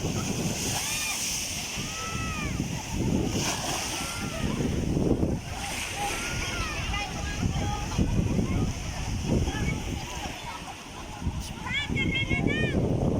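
Surf at Bagbag beach in Sual, Pangasinan rolls and sloshes continuously, waves breaking close by in repeated surges, with wind noise on the microphone and people talking in the background.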